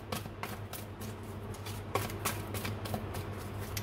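Tarot cards being shuffled and drawn, giving a steady run of soft papery riffles and flicks close by, with sharper snaps at intervals over a constant low hum.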